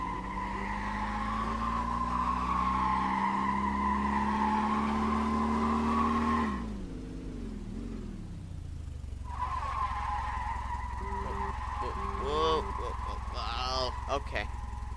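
A 3/4 ton pickup truck pulling a trailer in a towing test drones steadily at speed, then brakes hard. Tires squeal and skid in wavering chirps as the truck loses some control, close and fairly loud, with no talking.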